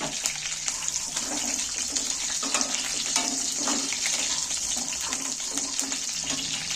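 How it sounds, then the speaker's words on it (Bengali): A steady, bright sizzle of curry leaves frying in hot oil, continuous and close, with occasional crackles and pops. "এইটা আমার ভাজা হয়ে গেছে তেলের মধ্যে কারি পাতাগুলো"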